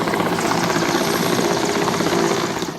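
Helicopter hovering overhead during a rope rescue in storm-force winds: a loud, close, continuous rotor and engine roar that holds steady throughout with no voices.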